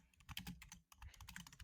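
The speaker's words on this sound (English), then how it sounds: "I'm gonna type it in." Quick typing on a computer keyboard, a close run of crisp key clicks with one short pause partway through, quiet and without talk.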